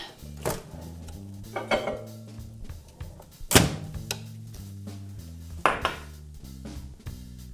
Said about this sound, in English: I'm just stirring it around because, as you know, microwaves tends to heat the outside first